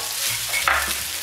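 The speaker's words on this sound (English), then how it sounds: "basically you're just going to move it around so the heat goes all the way through this rice" Rice with frozen peas and shallots stir-frying in a hot pan, a loud steady sizzle with scraping and stirring strokes throughout a short burst, no talking.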